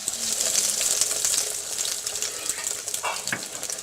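Potato and egg kababs coated in egg and bread fry steadily in hot oil with a constant loud sizzle, close up, broken by a few soft clicks near the end.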